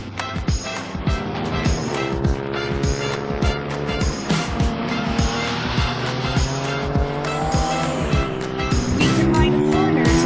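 A motorcycle rides hard around the WallRav track at Stary Kisielin, its engine loud and close, revving and shifting with repeated rising pitch sweeps and some tire noise throughout, over music or background chatter.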